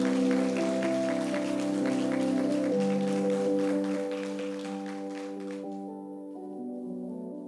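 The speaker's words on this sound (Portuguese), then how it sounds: "Você consegue aplaudir o nome do Senhor?" Church congregation clapping during a sermon, a steady patter of hands over a sustained organ or keyboard chord, thinning out toward the end as the music continues alone.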